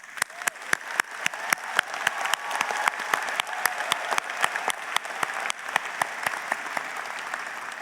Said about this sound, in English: let's take a moment to acknowledge our grads with a round of applause